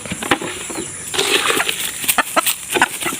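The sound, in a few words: backyard chickens clucking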